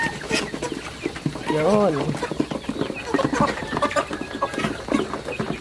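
Free-range layer hens cluck and squawk in a busy flock at feeders, with rustling and scattered calls, while a person briefly speaks.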